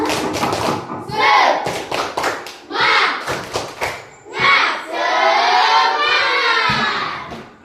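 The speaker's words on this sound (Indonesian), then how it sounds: "Kalau paham kita tepuk semangat dulu. Tepuk semangat." A classroom of students performs a rhythmic spirit clap, sharp patterned bursts of claps alternating with loud group shouts and chanting, close and energetic, lasting several seconds.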